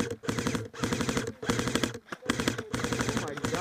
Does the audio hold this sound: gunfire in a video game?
yes